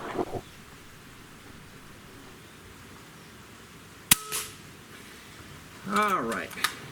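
A single sharp shot from a bullpup air rifle fired at eggs outdoors rings out mid-clip, preceded by a brief noise burst and followed near the end by someone speaking over steady background hiss.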